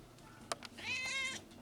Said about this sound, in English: look at all these wonderful kitties also waiting to be adopted